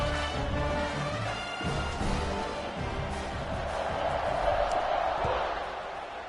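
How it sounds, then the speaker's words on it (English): Steady crowd buzz fills a football stadium in the fourth quarter after a score, a broad continuous murmur with faint cheers rising toward the end, running under a commentator's talk throughout. "this crowd is buzzing after that last score"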